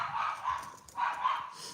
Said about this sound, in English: what is Bernie barking at y'all